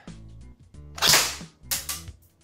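A Krytac P90 airsoft gun fires on semi-auto, two or three sharp snapping shots with a mechanical whir of the gearbox before each, close and loud with no talk.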